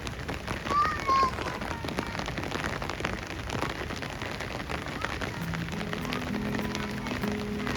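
Steady rain falling through light snowfall in Kashmir, a dense close patter of drops with no voices present.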